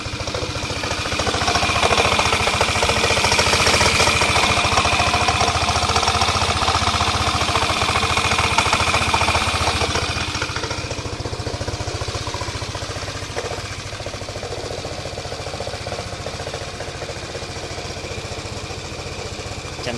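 A Yamaha NVX155 scooter engine runs close by with a steady, rattling mechanical idle, louder at first and then settling slightly quieter, with no talk over it.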